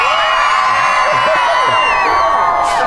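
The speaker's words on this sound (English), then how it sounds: "Big cheer." A small group at a home gathering breaks into a loud, close burst of cheering, with overlapping whoops and rising shouts over a few seconds.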